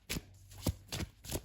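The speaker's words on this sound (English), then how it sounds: "as I shuffle these cards" Tarot cards being shuffled by hand at close range, four or five soft riffling bursts in an uneven rhythm, fairly quiet, with no talking.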